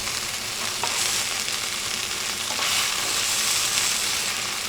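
Chicken wings for a soy-braised recipe sizzle and brown in a frying pan. A steady, loud hiss of frying oil fills the whole stretch, with no talk over it.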